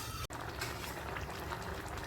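Prawns and vegetables boil together in a pan, a steady close bubbling simmer with soft liquid gurgles throughout, broken by one brief dropout.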